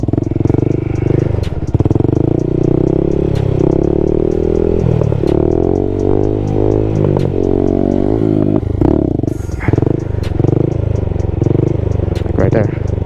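Stunt Honda Grom motorcycle engine droning steadily near and loud, holding and shifting pitch as the throttle varies, with someone talking over it throughout.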